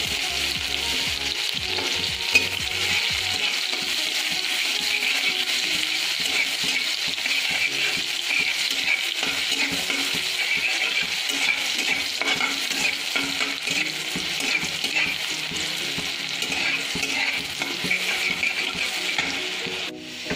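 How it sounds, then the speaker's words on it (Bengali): Onions fry in a pan of hot oil while preparing chana dal with chilli, a continuous bright sizzle running throughout with frequent stirring scrapes close by. "পেঁয়াজ দিয়ে দেবো।"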